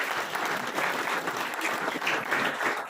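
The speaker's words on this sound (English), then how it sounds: "we have to give clap for him" Dense, steady applause from a conference audience at an international sustainable development event, greeting Vice Chancellor Dr. Digambar Shetty. The clapping is fairly loud and continuous for about three seconds, with no talking.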